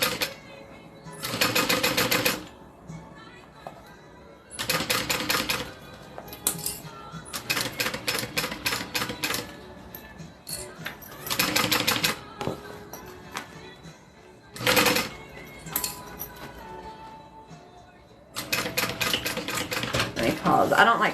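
Sewing machine stitching through vinyl and fabric in repeated bursts of rapid mechanical clatter, each lasting one to two seconds and separated by short pauses, loud and close with someone speaking quietly between runs.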